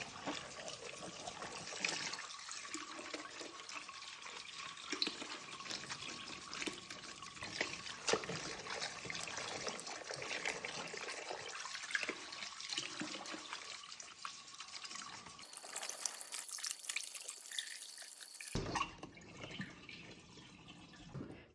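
Salted napa cabbage for white kimchi is rinsed under running tap water: a continuous soft trickle and splash with occasional drips, quiet and close, briefly changing as the flow shifts near the end, with no talking.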